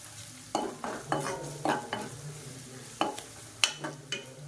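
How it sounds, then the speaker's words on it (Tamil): Whole spices and garam masala being sautéed in hot oil for a tomato side dish, with repeated bursts of stirring and crackling sizzle every half second or so, close and fairly loud, no talk. "இப்போ இதை வந்து லேசாக எண்ணெயில் பரட்டி விட்டுக்கலாம்"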